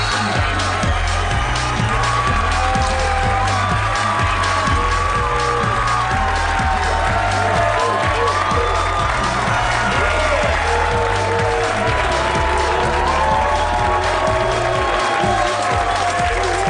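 Studio audience at a late-night sports talk show cheers, whoops and applauds loudly and continuously, a dense crowd roar over a steady pulse of music or stomping beneath.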